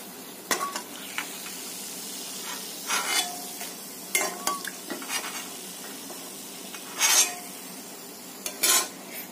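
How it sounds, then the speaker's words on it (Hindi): Nacho chips deep-frying in hot oil give a soft, steady background sizzle, broken by a handful of sharp scraping and stirring strokes from a utensil against the pan, fairly quiet and without talk. "इस तरह से हम ये सारे चिप्स फ्राई कर लेंगे।"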